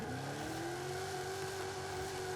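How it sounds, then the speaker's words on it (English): A Dodge Challenger Super Stock in Forza Horizon 5 holds a loud, steady high-revving engine drone during a burnout, its pitch rising slightly then sustaining continuously throughout. "I do a little big burnout for this sucker"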